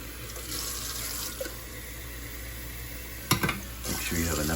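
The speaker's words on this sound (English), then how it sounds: "you have to put water in the coffee pot" Tap water runs into a coffee pot with a steady, close rushing hiss, broken by a brief clunk near the end as the pitch of the filling rises.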